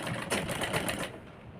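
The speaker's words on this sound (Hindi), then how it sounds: "बिल्कुल इसके किनारे किनारे पर सिलाई लगा लेंगे" An electric sewing machine runs a quick, even stitch along the edge of fabric for a girl's crop top. The close, rapid mechanical whirr lasts about a second, then cuts off into quiet.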